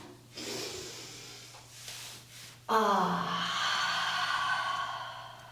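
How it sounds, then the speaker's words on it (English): A deep breath drawn in while lying on the back in shavasana at the end of a yoga session, then a long steady exhale, close and clear with no talking over it. "Shavasana, take a big inhale."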